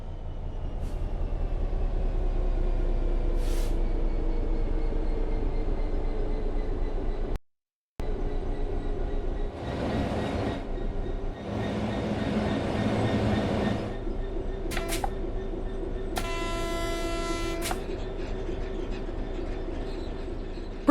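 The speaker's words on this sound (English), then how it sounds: "The train will then coast on level ground, and the train will only slow down very gradually." In Train Sim World 3, a train coasts on level ground, rumbling steadily with a low engine drone, brief hissing bursts and a faint rhythmic ringing near the end, no talking.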